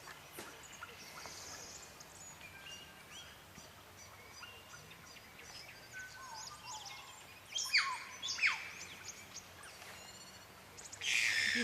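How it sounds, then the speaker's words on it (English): A morepork, a native owl, calls faintly and repeatedly from a distance over steady outdoor background noise, with a louder nearby sound near the end. "You can hear the more pork. That's a native owl."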